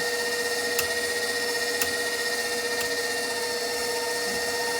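A powered apple peeler runs as apples are peeled, giving a steady droning whine with several evenly spaced sharp clicks, close by and fairly quiet, with no talk.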